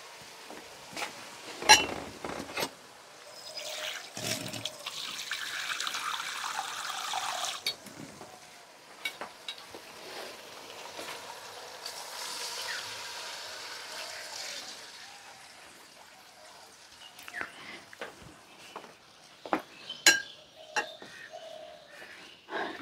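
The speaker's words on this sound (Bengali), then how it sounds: "একটু পানি দেই।" Water is poured into lentils cooking in a pot for an egg and vegetable dal, a faint liquid splashing and trickling amid quiet kitchen clatter, with a few sharp knocks of utensils.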